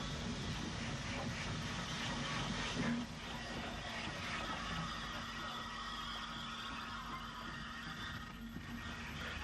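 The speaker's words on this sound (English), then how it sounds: "an S-Class 440 arrives at Strabane with the 10:30 train from Derry to Belfast" An S-Class 440 steam locomotive draws into Strabane station on a Derry to Belfast passenger train, a steady, dense rumble and hiss that holds at a fairly even loudness throughout.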